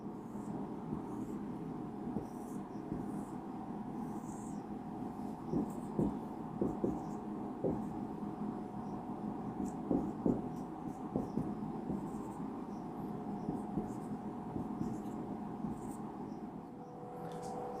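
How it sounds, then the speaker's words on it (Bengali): Pen or pencil scratching across paper while triangles are drawn by hand, a soft close scribbling in short strokes over a low steady background hum. "এখানে দেখো, আমি কয়েকটা ট্রায়াঙ্গেল আঁকছি।"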